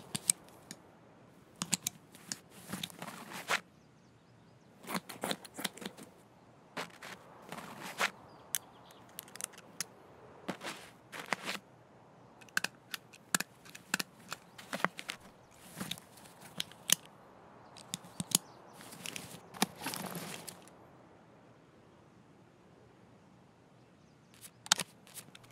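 Repeated short snipping and clicking from an arm surgery in the video game Escape From Tarkov, in quick irregular bursts over a quiet background.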